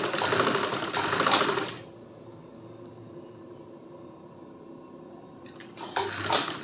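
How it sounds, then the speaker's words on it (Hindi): A domestic sewing machine stitching fabric for a child's garment runs in a fast, steady whir for a couple of seconds, pauses to near quiet, then starts up again briefly, close and clear. "ये देखिए इस तरह रख के आपने इसको सिलाई लगा दी।"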